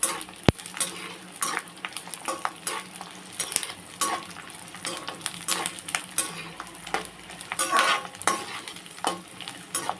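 Garlic cloves and green chillies fry in hot oil for an onion chilli thokku, giving a steady close sizzle broken by frequent scraping stirs of a spoon in the pan, with no talking.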